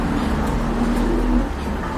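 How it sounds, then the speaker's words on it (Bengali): Pigeons coo low and soft close by, nearly continuous for a couple of seconds over a dull background rumble. "কবুতরগুলো ভাই খুব ছটফটে হ্যাঁ হ্যাঁ খুবই অ্যাক্টিভ কবুতর"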